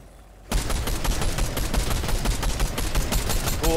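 Rapid video game gunfire breaks out after a quiet half-second and runs as a loud, dense burst of repeated shots, no voices over it.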